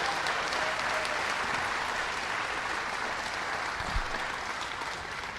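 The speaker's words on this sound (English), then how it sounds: "Tony Picente, let's give him a round of applause" Sustained audience applause at an outdoor stop of a breast cancer motorcycle ride in Utica, steady broadband clapping filling the whole stretch at even loudness, with faint talk beneath.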